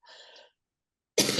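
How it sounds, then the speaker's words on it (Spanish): A single short cough, close and abrupt, preceded by a brief breathy throat sound and a moment of silence. "Tengo tos."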